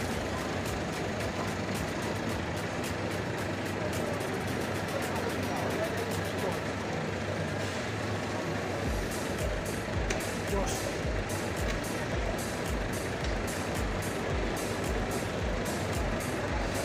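An Eka intercity bus on the Surabaya route pulls into Giwangan terminal amid a steady, loud wash of diesel engines, hissing air brakes and rapid reversing beeps, with busy terminal noise and people talking throughout.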